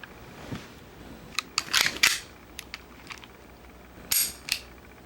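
A magazine is inserted into an airsoft Taurus PT99 full-auto pistol. A few sharp plastic and metal clicks and clacks come close up, bunched in two short clusters with a quiet gap between them.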